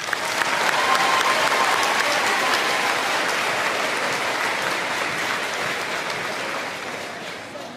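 Loud, sustained applause from a school audience at an eighth grade moving-on ceremony, dense clapping that holds steady and eases slightly toward the end.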